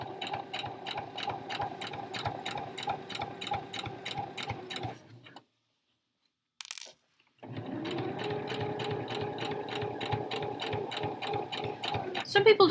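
A sewing machine top stitching trousers runs in a fast steady rhythmic whir, pauses briefly with a short click in the gap, then starts again, close and fairly quiet.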